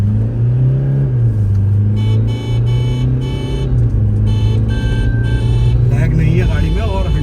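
A Toyota Fortuner Legender SUV in normal drive mode accelerates hard, its engine note droning loudly and steadily, with pitch stepping up between gear changes as someone talks over it throughout.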